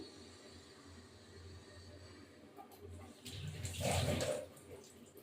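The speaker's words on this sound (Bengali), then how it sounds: "কাঁচা লঙ্কাগুলো একটু ধুয়ে নিই" Water running from a tap over green chilies being rinsed, a faint background hum at first, then a brief louder gush of splashing water near the end.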